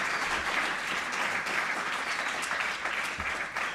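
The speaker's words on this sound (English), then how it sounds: "let's give a big round of applause for our panelists here" An audience claps for the panelists at the close of a conference session, sustained, dense applause with a slightly uneven, rolling texture.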